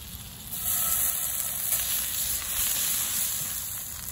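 Butter and ginger sizzle in a pan for teriyaki chicken, starting abruptly with a steady, close hiss that holds evenly and then fades slightly toward the end, with no talking over it.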